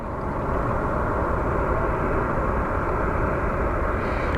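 An airliner departs Phoenix Sky Harbor airport with a loud, continuous broadband roar of jet engines. The roar stays steady and heavy throughout, with no voices.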